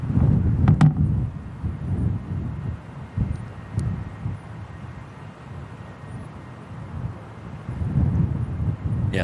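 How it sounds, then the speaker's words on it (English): Strong wind roars and buffets a microphone at Manchester Airport, a steady broad rumble with gusty swells, loud and close, with a faint high whine of aircraft in the distance. "Yeah, the wind really is picking up"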